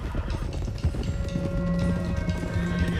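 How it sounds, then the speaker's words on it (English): Several horses gallop in Red Dead Redemption II, a loud, dense, continuous rumble of hoofbeats with a steady driving rhythm and no voices. "let's get these horses to Clemens Cove quick before we run into any more trouble"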